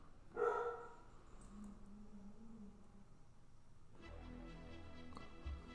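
One indoor dog bark rings out near the start; a faint, muffled woof or whine follows a few seconds later.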